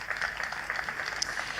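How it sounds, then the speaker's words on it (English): Audience applause at an investment conference in Homa Bay, faint scattered clapping heard from a distance for under two seconds. "Round of applause for the government."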